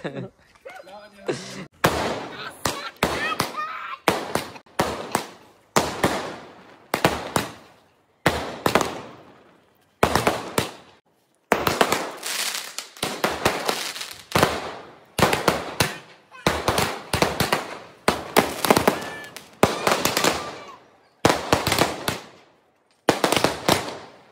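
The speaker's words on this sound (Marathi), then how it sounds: "आता तर मित्रांनो फटाके रेडी आलेच आहे" Firecrackers burst one after another in loud, sharp cracks, some in quick clusters, others spaced apart, echoing nearby.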